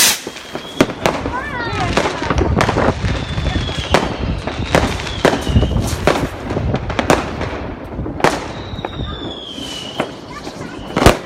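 New Year 2018 fireworks rockets burst in rapid, irregular succession: loud sharp bangs and crackles, some with whistling trails, close and echoing, while people talk in German between the explosions.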